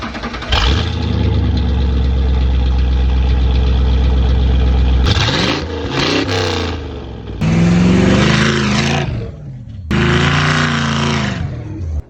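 A Ford F-150 pickup with a newly welded exhaust runs at a loud, steady idle, then gets revved in a few sharp blips with falling returns and short pauses between, close up.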